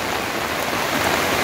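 Heavy rain pours down during flooding in Joaquim Gomes, Alagoas, in northeastern Brazil, a dense, steady hiss of drops on surfaces, close and continuous with no voices.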